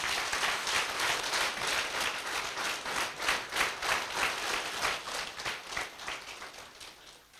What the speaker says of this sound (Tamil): அவருக்கு ஒரு பெரிய கைத்தட்டல் கொடுங்க.